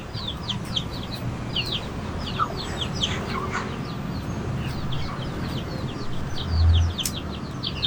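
Chickens of the Ganoi Don breed cluck and peep together, a busy chatter of hens with high chick calls over a steady low background, close and moderately loud.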